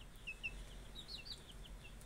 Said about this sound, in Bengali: ওরা সারাদিন শুধু চিউ চিউ চিউ চিউ করে